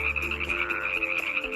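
A chorus tree frog in a desert wetland gives a quick run of rhythmic croaks, close and clear, with a steady pulsing call throughout and no talking.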